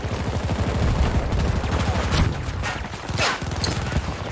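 Light machine gun fire in the game Battlefield 2042, loud, rapid, sustained bursts close up with a brief pause and crackling impacts, a voice faintly under the shooting.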